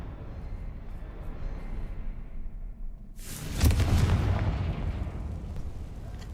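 Fiery blasting spell in a video game erupts midway through a low rumbling backdrop, a sudden loud explosion with a sharp crack and booming low tail that fades back into ambient rumble.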